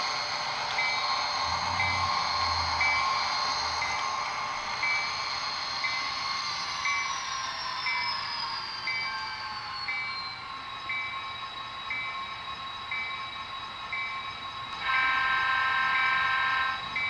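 Model railroad engines hum and whine along the track for a long stretch, a steady faint mechanical drone with rising and falling tonal whirs and a rhythmic clicking of wheels over rail joints, no voices.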